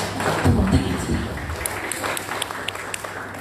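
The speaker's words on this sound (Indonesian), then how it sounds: "Tepuk tangan senang." A church congregation claps during a Sunday service at GSJA Mangga Dua, a brief burst of applause that thins into scattered individual claps, with a low voice briefly audible near the start.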